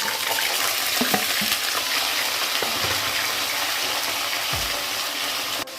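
Dried chili, curry leaves and drumstick pieces frying in oil in a pan, a steady close sizzle with occasional stirring scrapes, no voices.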